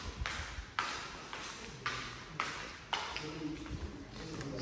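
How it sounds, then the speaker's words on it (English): Slipper footsteps walking through a room during a Lagos house viewing, a steady series of soft slaps roughly every half second, fairly close, with a faint background hiss. "please ignore the sound of my slippers"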